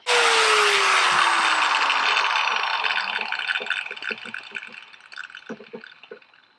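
Power cutting tool working through bolts on a 1927 Ford Roadster project car, a loud continuous whining cut for a few seconds that slowly winds down, tailing off into scattered metallic clinks and knocks.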